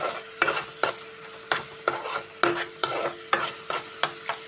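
Curry leaves sizzle in hot oil for a prawn curry while a spoon stirs them, scraping the pan in about a dozen sharp, regular strokes over a steady frying hiss.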